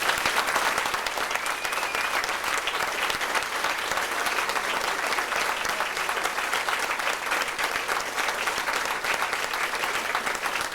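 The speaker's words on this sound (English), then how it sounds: "please join me in giving one final round of applause for all of our award recipients and for our graduating" Long, steady applause from a banquet audience for award recipients and graduating seniors at a senior class banquet, dense and continuous for around ten seconds, with a faint whistle early on.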